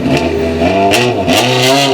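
A 1963 Triumph TR4 works sports car engine revs loudly up close at a classic car show, its harmonic growl climbing and dipping through a couple of throttle blips with no talking.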